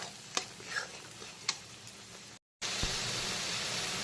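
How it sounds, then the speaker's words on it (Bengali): Onion paste fries in a pan over low to medium heat. A steady sizzling hiss sits under a few sharp taps and scrapes from stirring, broken by a short silent gap before the frying continues. "পেঁয়াজের পেস্টটাকে দেওয়ার পরে বেশ কিছুক্ষণ সময় নিয়ে কষিয়ে ভাজা ভাজা করে নিয়েছি"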